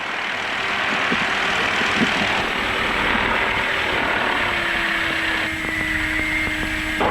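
A small training airplane taxis on the ground, its propeller engine giving a steady, close droning hum with a faint tonal whine that shifts pitch slightly partway through, heard alone without talk.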